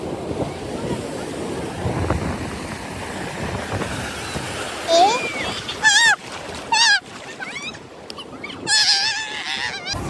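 Sea water washes up on the beach at Somnath, with rolling surf and wind buffeting the microphone, overlaid by loud honking or squealing calls in the second half.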